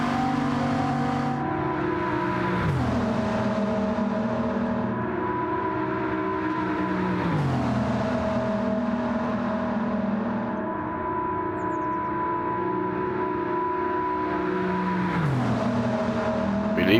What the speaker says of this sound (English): it's one of the first times I've really driven the Veyron on this game